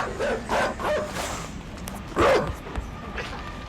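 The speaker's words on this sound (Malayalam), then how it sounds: "പട്ടി നമ്മളെ കടിക്കാൻ വന്ന." A dog in the game INSIDE gives a few short, sharp barks and yips while chasing the player, spaced over a few seconds and partly under excited talk.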